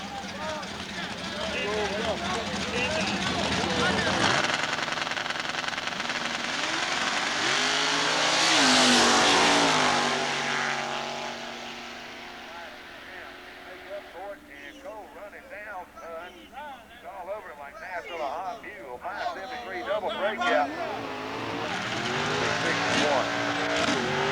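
Drag racing at Southeastern Dragway, including a 1969 Camaro: loud engines roar and rev, fade down the strip, then more cars launch and scream away, with an announcer talking over the racing throughout.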